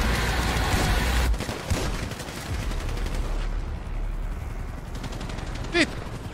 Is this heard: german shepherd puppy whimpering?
no